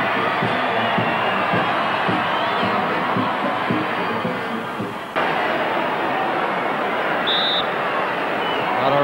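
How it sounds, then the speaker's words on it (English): Large football stadium crowd at an England v Cameroon friendly international cheering and roaring steadily as England return for the second half, a dense continuous wall of noise with a brief dip midway. "Really warm reception for England as they came out for the second half"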